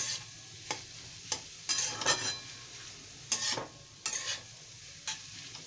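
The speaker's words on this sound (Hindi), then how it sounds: "इसे अब हम 2 मिनट और भूनेंगे।" Pav bhaji vegetables roast on a tawa with repeated bursts of scraping and stirring over a low sizzle, the spatula strokes coming in irregular clusters, close and fairly loud.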